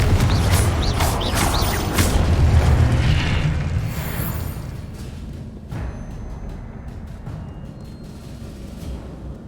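A Confringo blast spell in Hogwarts Legacy bursts in a heavy booming explosion, followed by crackling debris and a long fading rumble, loud and alone without speech.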